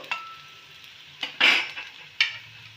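Green chili stirred lightly in a pan of paneer momo filling, with a few brief spoon scrapes and a short burst of sizzle in the middle, fairly close and without speech.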